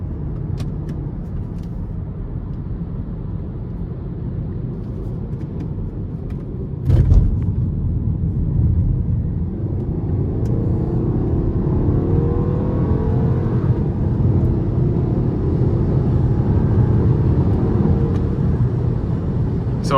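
A turbocharged 1.8-litre engine in a 2015 Volkswagen Passat drones and then builds as the car accelerates onto an interstate, with a clunk partway through and steady road noise throughout; no talking.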